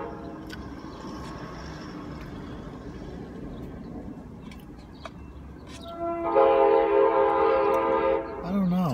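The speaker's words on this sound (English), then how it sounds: "It's a train." A passing train sounds a loud, sustained horn blast lasting about two seconds near the end, following a stretch of low rumbling rail noise.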